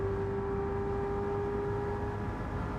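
Race car engines from a touring car racing game at Autodromo de Interlagos, with a Porsche among the field, hold a steady, loud droning whine that runs unbroken throughout with no talk over it.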